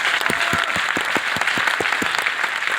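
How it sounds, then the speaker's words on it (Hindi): An audience at an RCM business event claps steadily, a dense run of sharp hand claps that goes on throughout, close and loud, with no voices over it. "रंजीत जी और नरेश जी के लिए एक बार जोरदार ताली बजा सकते हैं क्या?"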